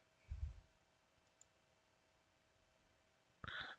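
Two brief, quiet clicks, like a computer mouse on a desk, sit close and far apart, with near silence between them.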